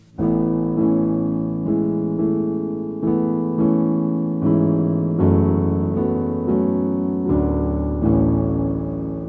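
Piano plays the verse of a song, with steady sustained chords and a melody moving through changes, full and close with no voices.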